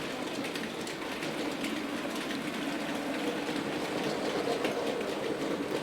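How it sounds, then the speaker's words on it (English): A Hornby model locomotive runs over a streamlined points crossover on a model railway, making a continuous close rattling hum with faint rhythmic wheel clicks and no talk. "here's a close-up view of the locomotive going through the points crossover"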